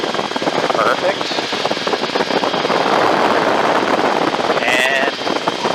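A helicopter in flight, heard from inside, gives a steady loud rotor and engine drone throughout, with radio chatter and a pilot's voice over the noise.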